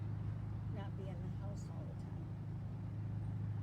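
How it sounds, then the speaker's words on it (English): Steady rumble of traffic on a busy main street, cars passing by continuously in the background under a person talking outdoors on a warm, humid day. "So you'll probably hear some of the cars going by."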